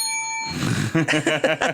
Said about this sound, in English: I gotta give you the bell.